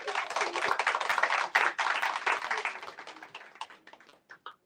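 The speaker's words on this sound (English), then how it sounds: "give him a round of applause." A small audience claps for a trivia winner at a Howard writers' panel and book signing, close and crisp at first, then thinning to a few scattered claps before stopping.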